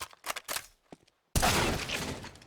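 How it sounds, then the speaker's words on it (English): Gunfire in the video game Counter-Strike during an esports match, a few quick sharp bursts and then a loud sustained volley of shots, close and without speech. "Oh, there's a shot from Twist."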